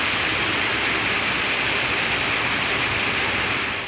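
Moderate rain falls steadily in a foothill area, a dense even hiss that stays loud and constant throughout with no voices.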